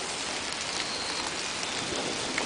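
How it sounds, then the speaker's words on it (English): Steady rain falling outdoors on a rainy day with lightning about, a dense continuous hiss of drops on surfaces, even and close, with no voices. "you can slightly see it's raining"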